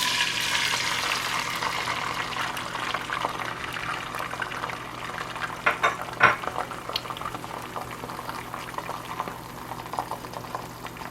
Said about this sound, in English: let's pour on the eggs.